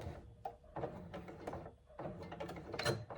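A sewing machine top stitching around a faux leather bag flap: quiet, uneven mechanical whirring and clicking in short runs with brief pauses, close and alone.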